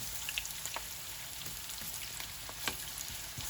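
Frittata pieces brown in a pan with a steady, faint sizzle and crackle, a few soft pops and a clink near the end, with no voices.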